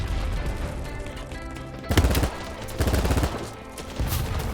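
Assault rifle fire in the video game BattleBit Remastered, bursts of shots over a busy game soundscape with several louder volleys near the middle and end.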